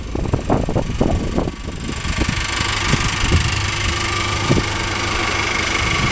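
An old engine idles after a cold start at a street festival in Delft, Holland, a low steady rumble with a few uneven knocking pulses early on, then settling into an even drone.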